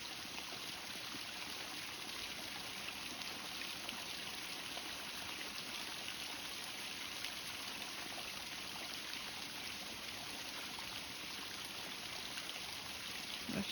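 Running water in a stream where lambs come to drink, a steady, broadband rushing and trickling that stays even and fairly faint throughout, with no voices.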